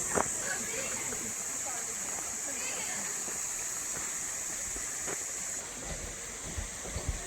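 A mountain creek rushes near a waterfall in a village valley, a steady broadband water roar throughout with brief splashes, fairly close and continuous.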